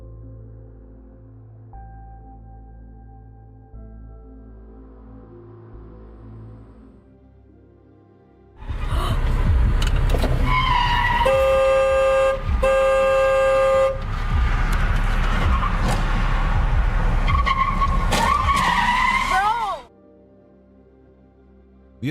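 Pickup trucks clash in a road rage incident, with a long stretch of loud blaring horns over roaring engine and road noise that begins abruptly and cuts off sharply after about eleven seconds.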